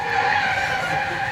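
A car's tires skid and squeal continuously as it swerves off a bridge in a video game. The screech is loud and close for about a second and a half, with no talking.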